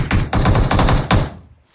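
Bursts of automatic gunfire in the mobile battle-royale game BGMI, with four or five rapid volleys in quick succession, loud and close, then trailing off, with no talk.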